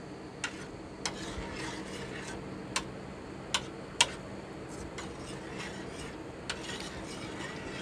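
A spoon stirs a knob of butter into pumpkin and chorizo soup in a single pot, tapping the rim in sparse, sharp clicks spaced a second or so apart over a low, steady background hum.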